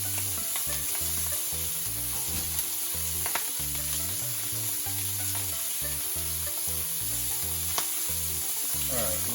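Bacon sizzles in a frying pan as part of a French meal, a steady, close hiss that runs unbroken throughout, with a low rhythmic hum underneath.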